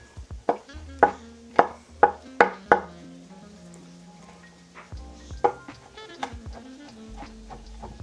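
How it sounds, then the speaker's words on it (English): A knife chops smashed garlic cloves on a cutting board, about six sharp, close knocks in a quick rhythm, then a few softer scattered taps with a pan faintly sizzling. "And I'm just gonna chop them up."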